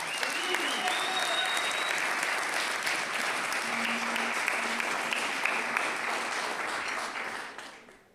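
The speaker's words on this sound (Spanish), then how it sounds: "Fuerte aplauso." Sustained crowd applause at a live music show, a thick, steady clapping texture from many hands that stays loud for several seconds, then thins and fades near the end before a sharp final sound.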